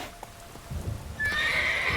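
Roach, the horse in The Witcher 3 game, gives a high, clear whinny after a few soft hoof clops, brief and close.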